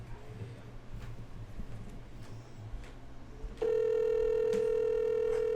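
Faint background noise gives way to a loud, steady telephone line tone that holds unbroken while an outgoing call is being placed.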